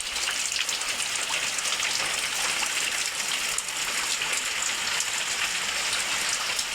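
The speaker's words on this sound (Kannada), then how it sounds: "ತುಂಬ ಮಳೆ ಬರ್ತುಂಟು ಹೊರಗೆ ನೋಡಿ." Heavy monsoon rain pours down outdoors near a house in a steady, dense hiss of drops striking surfaces, unbroken and fairly close, with no talk over it.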